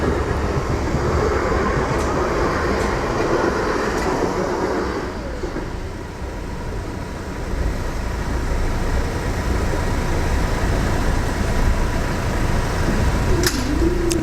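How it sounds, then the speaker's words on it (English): A train rumbles steadily past a Southampton level crossing, loud and close throughout with a continuous broadband roar, easing slightly midway before rising again, with faint high squeals near the end. "and here is our second train."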